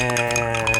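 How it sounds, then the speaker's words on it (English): Spoon stirring a non-alcoholic passion fruit punch, a bright, ringing clink against the glass that sustains briefly, close and fairly loud, with no voices. "We're gonna give it a good stir"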